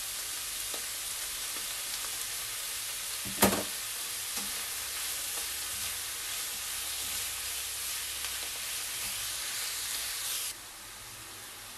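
Butter melts and sizzles with onions in a pan, giving a continuous dense frying hiss throughout, with one sharp utensil clack early on and a sudden drop in the sizzle near the end.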